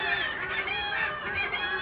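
Kittiwakes clamoring in a crowded seabird colony over the roar of surf, a constant wall of overlapping shrill, honking calls with no pauses, loud and near.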